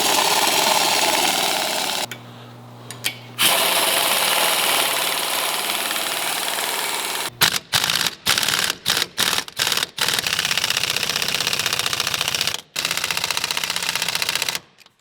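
Bursts of a pneumatic impact wrench tightening new bolts while a ReadyLIFT SST 4-inch lift kit goes onto a truck's suspension, a long loud rattling run, a pause, then a string of short sharp rattling hits close by.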